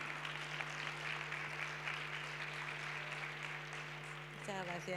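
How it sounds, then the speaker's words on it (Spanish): An auditorium audience gives a round of applause for a featured speaker at a lecture, steady clapping at moderate distance over a constant hum, with a voice starting to speak at the very end. "Un fuerte aplauso, ¿verdad?"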